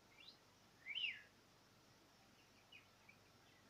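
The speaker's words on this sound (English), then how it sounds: "Just a bird." A small bird gives one brief, faint chirp, with a couple of softer calls later, against quiet background hiss.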